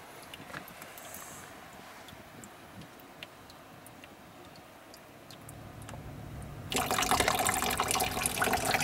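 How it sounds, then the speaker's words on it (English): Running water rinsing during storm drain filter testing: quiet ticks and faint trickling at first, then a tap opens near the end and a loud, steady hiss of flowing water takes over. "I'm going to do a little rinsing here."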